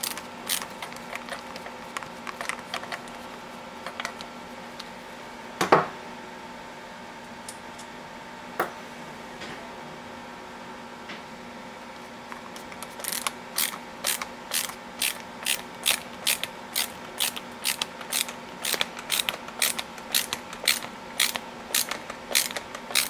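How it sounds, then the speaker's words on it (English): Screws are driven in and tightened with a ratcheting tool in a quiet room. Scattered ticks come first, then a steady run of sharp, evenly spaced ratchet clicks close by. "Screw all four of the screws in gently before tightening down."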